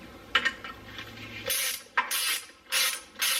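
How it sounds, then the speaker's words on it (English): A puller bolt being tightened to free a rusted, stuck brake rotor gives a few close metallic ratcheting clicks, followed by several sharp bursts of creaking and popping metal. "If you thread that in and then tighten it down, it will push in and pop that rotor off."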